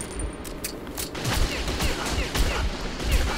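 Rapid gunfire in the post-apocalyptic shooter game Metro 2033: dense, repeated sharp bursts crackle one after another over a steady rumbling background, loud and close throughout with no pause between shots.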